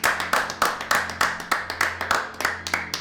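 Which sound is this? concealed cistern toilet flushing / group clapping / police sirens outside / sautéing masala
group clapping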